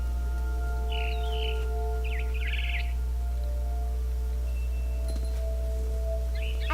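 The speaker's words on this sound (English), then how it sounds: "It was a barn swallow going back to her nest." Barn swallow chirps in What Remains of Edith Finch, a few short twittering bursts over a steady low ambient hum, fairly faint and spaced out, with no talk.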